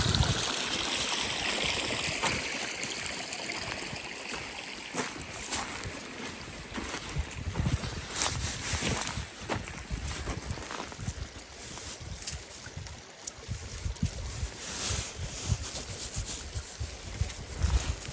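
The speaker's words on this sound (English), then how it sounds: "Enjoy the water sounds." Steady rushing stream water over rocks flows continuously, a broadband wash with occasional splashes and rubbing sounds, fairly close and without voices.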